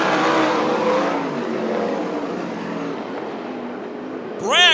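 USAC/CRA sprint cars at Hanford, California race through a heat, engines roaring loudly and continuously near the track, with a race announcer calling the action over the top and a rising engine whine at the end.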